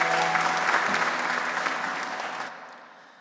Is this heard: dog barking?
no